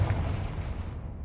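A Confringo fire-spell blast in Hogwarts Legacy, a single deep low boom that rumbles and fades out over about a second, no voices.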